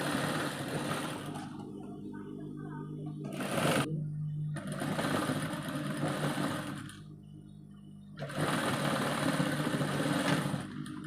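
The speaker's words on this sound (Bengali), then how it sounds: "এই চিকন করে সেলাই করতে হবে" Sewing machine stitching a garment, running in steady motorized bursts with short pauses between runs, close and fairly loud with no talking.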